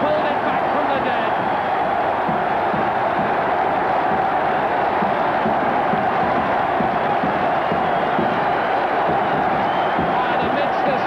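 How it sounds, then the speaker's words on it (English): Leicester rugby supporters roaring and cheering wildly after a try at the 1979 John Player Cup Final against Moseley, a dense, sustained crowd din of whoops and shouts, with a commentator's voice over the top. "the crowd, the Leicester supporters go wild"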